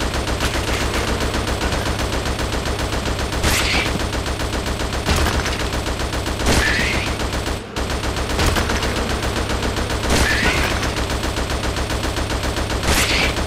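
Rapid-fire weapon in the Xbox 360 light-gun shooter Attack of the Movies 3D: a loud, unbroken stream of quick shots runs throughout, with sharper impact bursts every few seconds and no talking.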